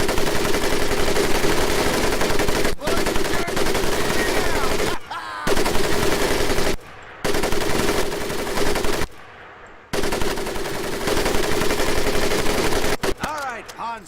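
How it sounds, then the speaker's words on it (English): An M1919A4 .30 caliber machine gun at a Medal of Honor Pacific Assault boot camp fires long, loud, sustained bursts at close range, broken by a few brief pauses between strings of rapid shots. "M1919A430 caliber machine gun"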